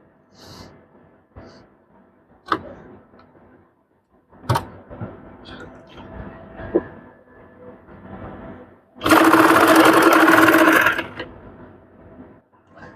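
A sewing machine stitches fabric for a three-quarter-length child's pant in one loud, continuous whirring run of about two seconds. Before it come scattered handling knocks and clicks with quiet pauses.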